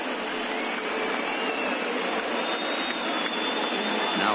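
A large stadium crowd of over 31,000 cheers and applauds steadily at a baseball game between the Cubs and Brewers in a video game simulation, a dense continuous roar with faint commentary underneath.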